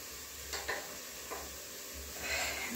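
Dalia porridge being tempered in a pan, with a soft, steady sizzle, quiet stirring and a few light scrapes of a spoon against the metal, heard close up with no talking.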